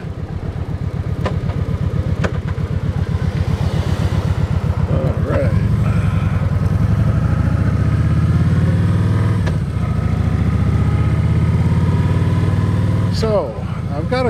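A bagger cruiser motorcycle rumbles steadily while riding over a bumpy road, its engine drone continuous and close, with occasional jolts and a rider talking over it.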